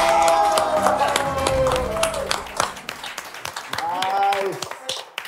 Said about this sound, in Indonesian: Ini tepuk tangan yang paling benar kali ini.